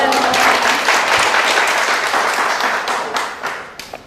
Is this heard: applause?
yes